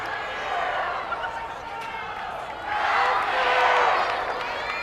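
Crowd at a college gymnastics meet cheering and clapping, a moderate arena roar that swells louder in the second half, with voices talking over it.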